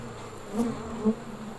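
Honey bees buzzing steadily around hive frames while a swarm is being collected, a close, continuous drone with brief louder swells as individual bees pass near.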